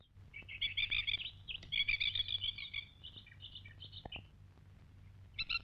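Birds chirp and call in repeated bursts of high trills at Lake Mundara, a dammed lake sanctuary on dry, eroded land, fairly close and clear over a low steady background hum.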